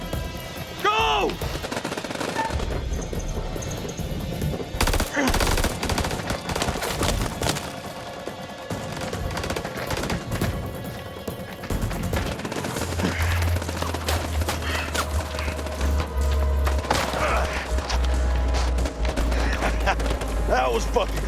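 Heavy gunfire erupts in a House of Ashes firefight, dense bursts and volleys crackling throughout with shouted voices cutting across the shooting and a low rumbling layer building toward the end.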